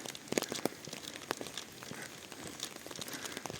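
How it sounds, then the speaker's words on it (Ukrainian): Light, scattered pattering of spring raindrops in Truskavets with irregular soft ticks over a faint steady hiss, no voices. "Деяколи ви ще почуєте таке гарне шурхотіння крапельок, правда?"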